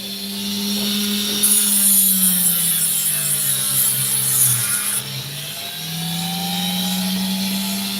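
Dremel rotary tool grinding opal: a continuous high whine whose pitch dips and rises under load, with a harsh scratchy edge during the heaviest contact, close and steady for about eight seconds.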